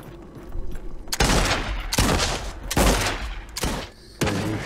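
Rapid video game gunfire as enemies shoot at the players, loud dense bursts of shots in several blasts separated by brief lulls, close and overpowering.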